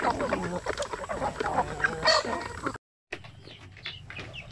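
Young chicks on a poultry farm peep in a busy, overlapping chorus of high chirps, close by and fairly loud, broken by a brief silence before the peeping resumes.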